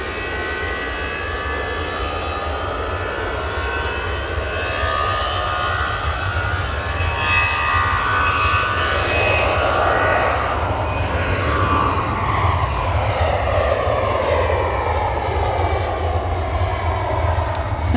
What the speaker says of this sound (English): EasyJet A380 off to Geneva